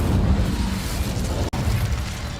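Incendio fire spell cast in the video game Hogwarts Legacy, a dense whooshing burst of flame with rumbling low crackle, loud and continuous, cut by a brief dropout midway.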